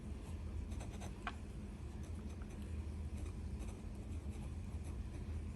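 Brass fountain pen nib laying wet ink on paper, a quiet continuous scratchy scraping of nib on paper with soft faint strokes, no talking.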